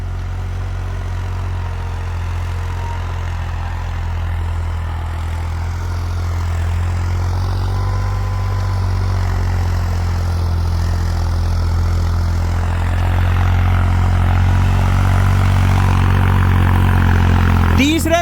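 A New Holland tractor engine runs in gear with a steady low rumble, growing a little louder toward the end, with someone talking over it.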